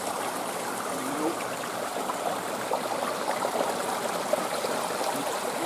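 Fast-flowing river water rushes steadily as a broad, constant wash, fairly close and unbroken for the whole stretch, with no voices over it.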